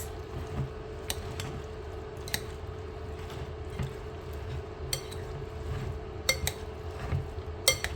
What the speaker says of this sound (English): So now I'm going to go ahead and mix in this shredded cheddar cheese.